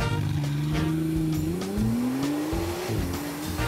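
McLaren Artura Spider, 700 hp, pulling away hard under launch control on a track, engine note climbing loud and close through rising revs with a quick gear change, tyres chirping.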